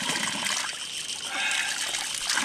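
Water trickles and splashes steadily at a village spring near a waterfall, a continuous close, bright patter with no break.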